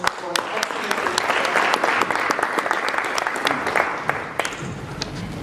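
Sustained applause from a conference audience at an oil and gas summit, dense steady clapping filling the hall with scattered sharper claps, a voice briefly audible near the end.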